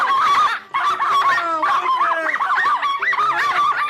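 Three dogs on New Year's Eve howl and yip together in a loud, continuous chorus of wavering, overlapping cries, close to the listener and with no talking.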